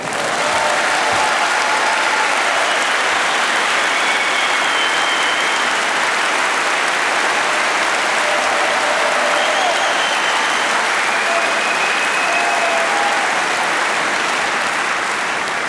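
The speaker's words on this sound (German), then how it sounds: "bevor er seinen wohlverdienten Applaus bekommt" A crowd at a master craftsman ceremony in June 2017 applauds at length, a loud, sustained, even roar of many hands clapping with faint voices surfacing now and then underneath.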